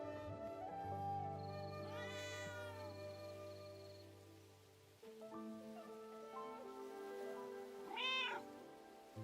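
Cats meow near a homestead, with a long drawn wail followed by a few shorter rising and falling cries, fairly close and clear against a quiet background.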